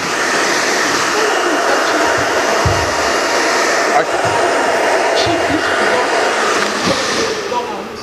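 A hair dryer blows steadily and loudly at close range while hair is stretched out with a bristle brush, the airflow changing slightly as the brush moves, with a few soft bumps under the constant whir.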